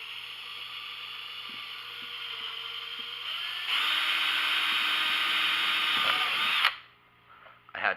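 A power rivet tool works on a drywasher, first with a whirring mechanical buzz, then a louder, steady high-pitched whine for a few seconds that stops abruptly, followed by faint handling noises.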